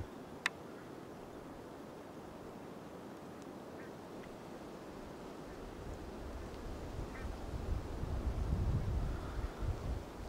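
A flock of birds flying south over woodland during an autumn rogaine orienteering event gives faint, scattered calls, nearly buried under steady wind rumble on the microphone that swells toward the end.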